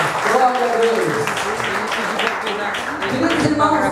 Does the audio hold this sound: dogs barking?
no